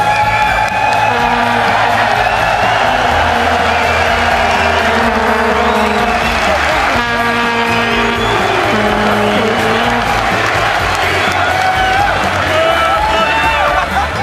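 An esports audience at an LCS 2014 EU Summer event cheers and whoops loudly and continuously in a large hall, a dense roar of crowd noise with rising shouts and no clear pauses.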